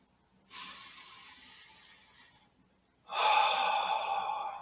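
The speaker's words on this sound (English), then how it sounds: "take a few deep breaths" Two slow, deep breaths, one softer and drawn out, then a louder, fuller one after a pause, heard close and alone without talk.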